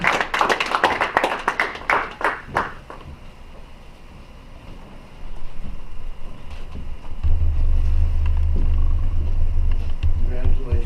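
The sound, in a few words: council meeting audience giving a round of applause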